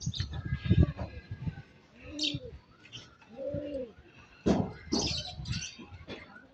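Pigeons outdoors around a loft, with soft cooing calls and chirps recurring through the clip, some brief wing-flutter bursts, moderately near and not loud.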